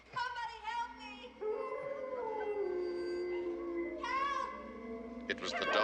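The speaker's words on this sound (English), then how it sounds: "She was by the window shouting when we heard a howling outside." Dogs howl outside in long, wavering, rising and falling tones, several voices overlapping at a moderate distance and continuing without a break.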